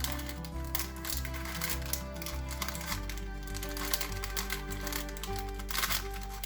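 Parchment paper being folded into a piping bag, soft crinkles and crisp taps of paper pressed and creased, quiet and close, with a steady low hum underneath.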